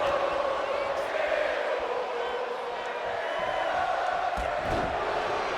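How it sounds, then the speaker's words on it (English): A wrestling video game's virtual arena crowd chants for Chad Gable, a steady, moderately loud rhythmic chant with crowd murmur underneath. "You hear the crowd chanting for Chad Gable."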